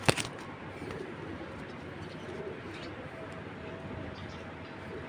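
Racer pigeons coo softly and steadily in a loft, a low continuous murmur of several birds with a brief louder sound at the start.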